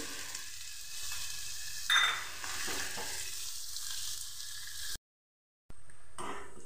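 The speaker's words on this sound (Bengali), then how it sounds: "এভাবে আমি সেকেন্ড ব্যাচগুলোকে এভাবে ভেজে নেব" Steady sizzling of bitter gourd frying in hot oil, close and continuous, with a brief clink of a utensil and a short break of silence near the end.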